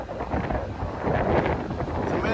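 Gusty wind buffets the microphone outdoors on a farm as a storm approaches, a steady broadband rumble that swells slightly toward the end, with no voices.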